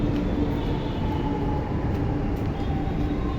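A metro train at Ashok Nagar, Chennai, rumbles past with steady, loud roaring and rail noise throughout, no voices audible.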